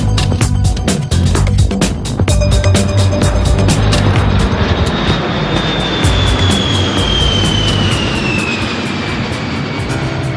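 A Beriev Be-200 amphibious seaplane of the emergency ministry flies past loud and steady, a broad engine roar with a rising jet whine, with no voices.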